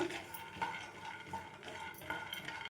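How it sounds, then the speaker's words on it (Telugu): Peanuts are stirred while roasting in a pan on a low flame, a steady close scraping and rattling of spoon against metal with small clinks, continuing without talk. "లోపల వరకు మంచిగా వేగేంత వరకు వేయించుకోవాలి కలుపుకుంటూ వేయించుకోవాలి"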